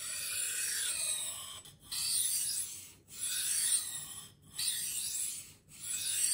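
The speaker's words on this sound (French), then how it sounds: "on va passer sur le grain 1200 pour affiner le tranchant et avoir un fil plus net" Knife blade drawn across a Sharpal 162N diamond plate at 1200 grit, a bright gritty scraping in four long even strokes separated by short pauses, close up with no talking.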